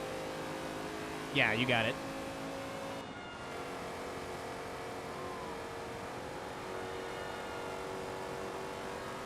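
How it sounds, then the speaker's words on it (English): A race car in Forza Motorsport 2 holds a steady engine drone with a faint harmonic whine, and someone speaks briefly over it near the start. "I'm mad this car's so fast, but it sounds so cool."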